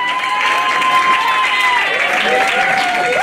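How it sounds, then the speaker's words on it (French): Wedding guests applaud the couple at a French wedding reception game, a steady wash of clapping with a brief tonal sound and faint voices underneath. "applaudissez pour eux."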